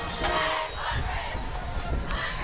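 Crowd noise from Woodbridge cheerleaders at a varsity high school football game against Colonia, a steady dense roar of shouting voices with rising yells, sustained throughout without a break.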